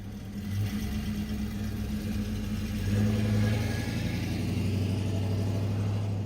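A swapped-in 4.8 or 5.3 LS V8 in a 1971 Oldsmobile Cutlass S on lowering springs idles with a steady low rumble, then revs up briefly before settling back, heard close and alone.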